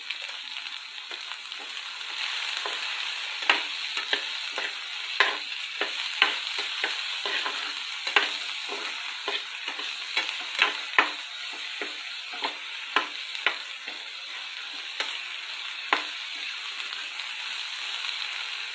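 Okra pieces fry in a pan over a medium flame, giving a continuous close sizzle broken by frequent sharp crackles and pops, with no talking.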